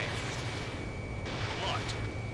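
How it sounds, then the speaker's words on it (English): Anti-aircraft fire in the video game Ace Combat 7 rumbles continuously, faint and muffled under jet engine noise, with a few scattered bursts. "I almost got hit by AA fire."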